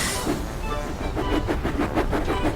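A toy-scale Thomas the Tank Engine steams along with rhythmic chuffing puffs and a hissing rail clatter. The beats quicken and grow more distinct toward the end, with no talking.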